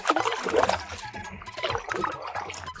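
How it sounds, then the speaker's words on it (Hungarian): Water drips off a kayak paddle, trickling and splashing in an uneven, steady stream, dribbling close by with small gurgles and no voices, on a Danube backwater in Hungary. "eléggé becsorog erről a lapátról a víz"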